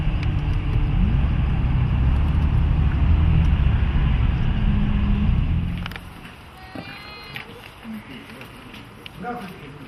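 A car travelling on a road on the approach to Kyiv behind a traffic police escort car gives a loud, steady engine and tyre rumble that drops away sharply after about six seconds, leaving quieter background noise.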